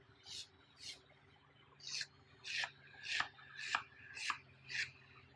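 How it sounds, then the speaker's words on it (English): A serrated metal scraper scores clay with a series of about eight short, raspy scrapes. The strokes come in an uneven rhythm, close and moderately quiet, over a low background hum. "I'm going to score here and score here with my serrated metal scraper."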